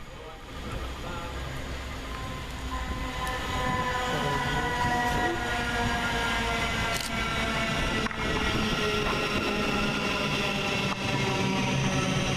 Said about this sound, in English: Next into the station is 700-143, with the 11:53 Govia Thameslink service from Gatwick Airport to Bedford.